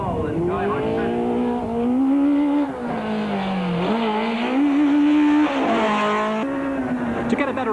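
A Volkswagen rally car from 1993 drives a rally stage, its engine revving and shifting through rising and falling pitch sweeps. The car sounds close and loud, with tire noise underneath.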